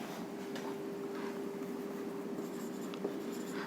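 Chalk or marker scratching steadily across a classroom board during a Hindi-language chemistry lesson on cyclic ethers, continuous close writing strokes with a steady electrical hum underneath and no talk.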